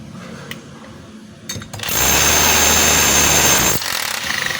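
A DeWalt D25032 rotary hammer switches to hammer mode and roars loud and close for about two seconds with a harsh, dense pounding, then cuts off abruptly amid quieter handling noise.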